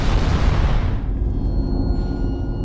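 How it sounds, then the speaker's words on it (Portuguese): A loud, roaring blast from an exploding DC-9 airliner engine, a broad rumble that cuts off sharply after about a second into a lower, sustained drone with a faint high whine, and no voices. "Houve uma explosão e eu pensei, o motor explodiu."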